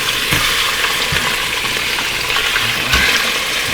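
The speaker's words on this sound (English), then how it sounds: "Just get a nice sear on them." Pork chops sear in hot olive oil inside an Instant Pot, giving a steady, loud, close sizzle with a few sharper pops and crackles throughout.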